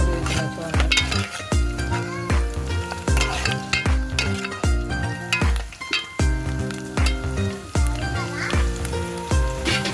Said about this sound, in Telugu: ఉల్లిపాయలు వేగాయి